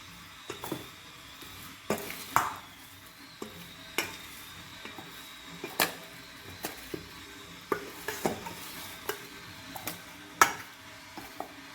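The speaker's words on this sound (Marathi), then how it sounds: "पण चांगला हलवून घ्यायचा आता" Fish curry being stirred in a pan, with repeated spoon scrapes and clinks against the metal at an irregular rhythm over a faint, steady sizzle.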